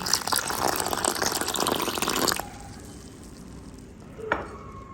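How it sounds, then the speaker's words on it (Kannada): Water pours into a bowl in a loud, steady rush for a couple of seconds and then stops, followed by quiet and one brief clink. "ಇದಕ್ಕೆ ನೀರನ್ನು ಹಾಕ್ಕೊಳ್ತೀನಿ"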